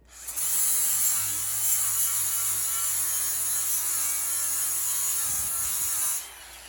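A DeWalt DCG413 20V cordless angle grinder running on a 2Ah battery whines at high pitch under load, holding a steady tone for several seconds before spinning down.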